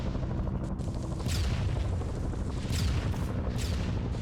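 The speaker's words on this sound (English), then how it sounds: "they're starting to, you know, do airstrikes here" Airstrike explosions in a Vietnam War video game, several muffled booms and crackling blasts at moderate distance over a continuous rumbling battlefield background, no voices.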